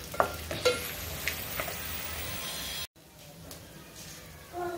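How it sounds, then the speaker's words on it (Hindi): Cashews dry roasting in a pan over a medium flame, giving a faint, steady sizzle with a few soft stirring scrapes near the start, then a brief silent gap before the quiet roasting resumes. "और काजू डालेंगे। इसको थोड़ा सा भून कर लेंगे"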